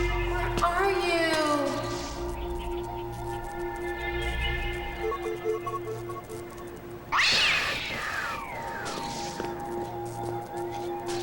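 A pet cat meows several times indoors while a woman coaxes and calls to it. The cries sit in a busy, continuous background, with a louder stretch partway through.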